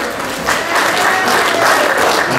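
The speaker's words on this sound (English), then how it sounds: "Let's give a round of applause for our best man." Wedding reception guests applauding the best man, a full, loud wash of clapping that builds and holds steady in a room.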